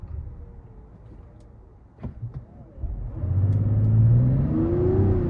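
A 2024 Mazda CX-90 SUV engine restarts from auto stop and revs, hesitating slightly, then rising in pitch as it accelerates from a stop, after a couple of faint clicks and a quiet idle.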